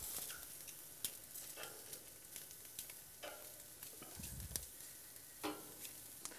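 Grilled pork pieces sizzle steadily on a grill while being turned over, a soft continuous frying hiss broken by a few light clicks and scrapes of the tongs, fairly quiet and close with no talking.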